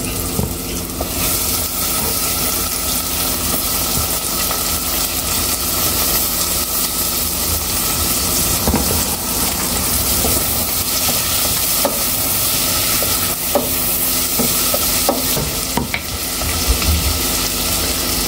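Tomatoes sauté in a pan for sinigang, a continuous sizzling hiss with scattered clicks and scrapes of stirring, close and steady, with no voices.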